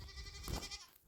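A farm goat gives a short, nasal bleat up close, a single brief call with no talking.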